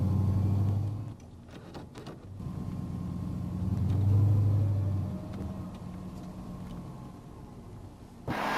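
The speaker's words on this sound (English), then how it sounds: "let's road test the vehicle to see if the transmission is in good working condition" A car with a 4L60E automatic transmission driving on a road test, with a steady engine and road rumble that swells and eases as it accelerates, heard from inside the vehicle with no talking.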